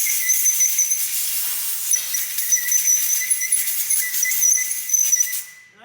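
Pneumatic compressed air blows through a freshly drilled screwdriver handle under a workbench, a loud continuous hiss with slight fluttering that runs for several seconds and then cuts off.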